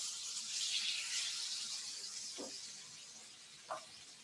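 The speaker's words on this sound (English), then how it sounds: "So when you add the meat to the pan, you will hear a nice sizzle." Steady high hiss of pork tenderloin sizzling in hot oil in a pan, loud and continuous, with a couple of faint clinks in the background.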